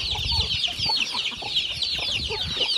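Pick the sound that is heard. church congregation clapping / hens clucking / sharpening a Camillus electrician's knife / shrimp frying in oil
hens clucking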